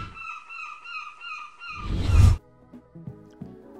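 A voice imitates a trumpet with a brassy, nasal, wavering blast lasting about two seconds, followed by a burst of breathy noise and then quiet fumbling sounds.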